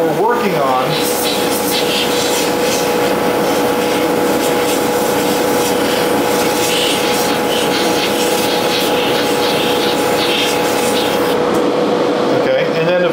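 A hobby airbrush blows a steady stream of air onto a model to dry fresh paint, a constant close hiss with a faint tonal hum running unbroken throughout.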